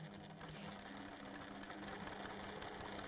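A sewing machine runs continuously while chain piecing fabric, its fast, even needle clatter humming steadily and close for the whole stretch.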